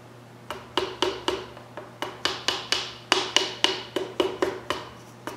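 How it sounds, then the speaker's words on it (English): A screwdriver taps lightly on a piston ring clamp during engine work on a 1968 Triumph Spitfire MK3. About twenty crisp metallic ticks come in a steady, even rhythm over a faint hum. "Now we can pull out the screwdriver, and I'm gonna tap very, very lightly the clamp"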